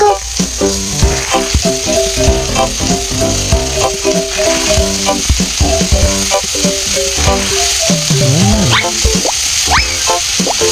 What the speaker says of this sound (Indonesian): menggoreng